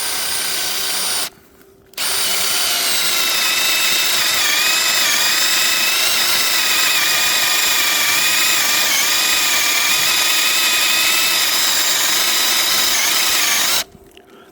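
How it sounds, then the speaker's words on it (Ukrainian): A power drill whines loudly and steadily, boring a hole into elm wood with a grinding, rubbing edge, pausing briefly near the start and stopping at the end. "показую яка дюрка, як свердлит?"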